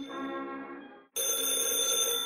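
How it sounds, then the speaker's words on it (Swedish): A telephone rings with a steady electronic tone that cuts off briefly and then resumes brighter and louder. No one speaks over it. "Jag hör en telefon som ringer"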